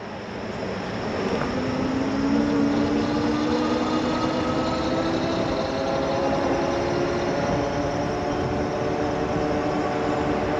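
A battery-powered vehicle climbs a trail at steady throttle, giving off a continuous loud electric motor whine with rising tonal hums and constant rumbling, and no voices.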